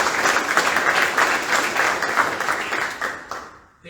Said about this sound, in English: Please, round of applause to these fine veterans.